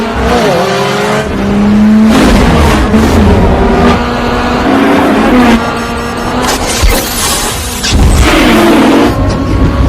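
Race cars roar and rev at the start of a street race in an action film, engines loud and close with tyre squeals and a brief crash-like shatter mid-way, sustained throughout.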